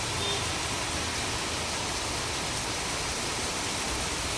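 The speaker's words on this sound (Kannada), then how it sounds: "ಸಿಕ್ಕಾಪಟ್ಟೆ ಮಳೆ ಬರ್ತಾ ಇದೆ ನಮ್ಮ ಏರಿಯಾದಲ್ಲಿ" Torrential rain falls across a residential neighbourhood, a broad, even roar of water that holds steady throughout without any talking.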